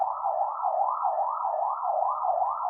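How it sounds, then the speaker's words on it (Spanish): A wailing emergency vehicle siren sweeps steadily up and down, loud and continuous from start to finish, with a faint low rumble beneath it at the start and end. "Algo ha pasado por ahí porque hay sirenas"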